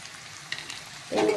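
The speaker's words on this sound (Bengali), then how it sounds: "এবারে ভালো করে আমি এইগুলো ভালো করে ভাজা ভাজা করব।" Cabbage, beans, peas, onion and green chili frying in a pan: a quiet stretch with a few faint clicks, then a sudden close sizzle that bursts in near the end and holds steady.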